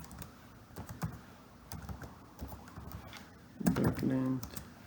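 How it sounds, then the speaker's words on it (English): Java code is typed on a computer keyboard as a quick run of light key clicks, with someone talking over part of the typing. "Instead of that one I will just type"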